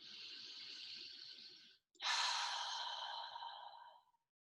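A person draws one long, deep breath in, steady and close, then after a brief pause a second, stronger breath follows and fades out, with no words spoken.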